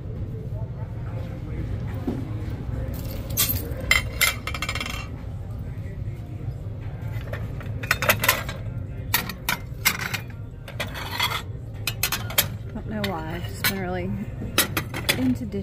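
Secondhand ceramic and glass dishes clink and clatter as they are handled and sorted from a thrift-store bin haul, in repeated sharp bursts over a steady low hum, with a person talking throughout.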